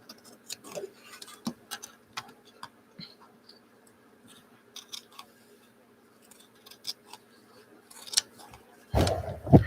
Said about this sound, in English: you cut them out.